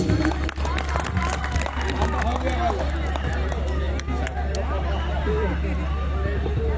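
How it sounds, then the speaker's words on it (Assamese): An audience at the first annual Buri Dihing festival claps, with a steady patter of many hands alongside crowd murmur and a low constant hum throughout. "হাত চাপৰি প্লিজ।"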